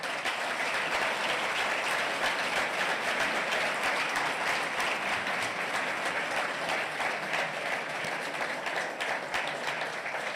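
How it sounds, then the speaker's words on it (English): A conference audience gives a full, steady round of applause at the closing session of a high-level STS Forum meeting for Latin America, dense clapping sustained evenly for about ten seconds with no voices. "Can we please have a round of applause to everybody?"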